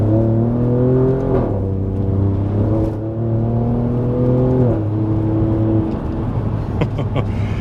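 An Alfa Romeo Giulia Quadrifoglio pulls hard on a wet open road, its engine note climbing loud and close through several rising gear pulls with brief dips at each shift, heard from inside the car with no talking.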